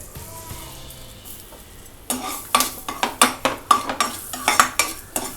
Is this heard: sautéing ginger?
yes